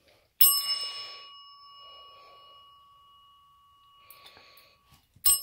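A dog rings a bell during a training session, giving a sharp metallic ring with a long sustained tone that slowly fades, followed later by fainter rattling and a second loud strike at the end.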